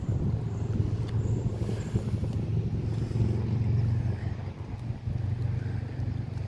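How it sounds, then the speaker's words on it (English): Road traffic rumbles steadily near a park on an evening outing, a continuous low, moderately loud wash of passing vehicles with no clear breaks. "Sorry for all the traffic noise."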